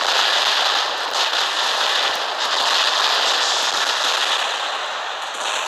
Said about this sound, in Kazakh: Өкінішке орай біздің сол жағымыздан тағы Рино роботы атқылап жатыр.